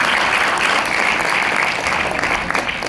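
A crowd at a corporate recognition event applauds in a full, continuous burst of clapping, loud and close, sustained for a few seconds.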